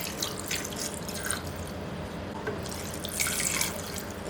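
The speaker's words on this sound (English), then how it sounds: "Here I move the pork pieces into the pressure cooker and pouring about 1 liter of water" About a liter of water pours into a pressure cooker holding pork pieces, a soft continuous splashing and trickling that swells briefly near the end.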